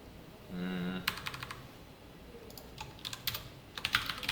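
Brisk computer-keyboard typing of code during a C programming lesson on linked lists, coming in short clattering bursts near the mic, with a brief low hum before the first burst.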